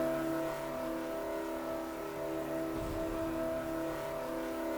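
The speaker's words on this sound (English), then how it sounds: "as you can hear, those engines revving up so high already" Engines in the Stormworks video game hold a steady high-pitched revving whine that stays even throughout. A brief low rumble comes in midway. No talking.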